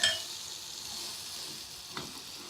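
Waffle batter sizzles in a hot pan on high heat, a steady close frying hiss that holds throughout, with one soft clink of a utensil near the end.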